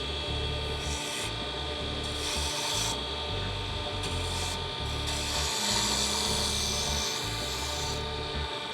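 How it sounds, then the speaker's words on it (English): A hand tool gouges and rasps into a wooden seam ripper handle, producing repeated close scraping strokes in a steady rhythm with a low mechanical hum beneath. "you're just going to take your tool and gently advance it forward, and it will just start to gouge as you saw"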